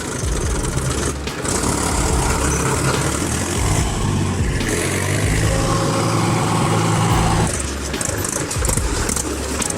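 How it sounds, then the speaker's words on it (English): A huge truck's engine rumbles and revs loudly up close, with low droning tones rising and falling over several seconds amid rough noise. "A huge truck roared"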